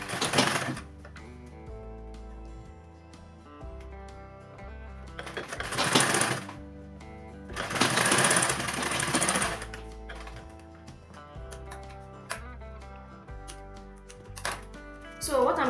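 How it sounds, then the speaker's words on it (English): A sewing machine top-stitches around the top of a bag pocket, with steady mechanical bursts rising and falling over background music. "then you just top stitch all around the top of the pocket"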